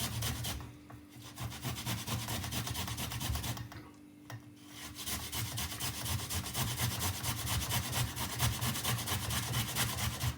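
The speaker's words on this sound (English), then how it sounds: "So I'm just gonna grate it" Food is rubbed against a kitchen grater in a continuous, dense scraping rasp that keeps a steady rhythm for about ten seconds, with two short pauses. The sound is fairly faint and close, with no talking.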